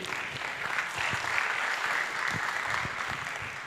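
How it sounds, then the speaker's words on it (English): Steady, full audience applause rises at an ICT clubs competition finals in Uganda, a continuous wash of many hands clapping at moderate volume with no pauses. "So give a mighty hand clap to UCC."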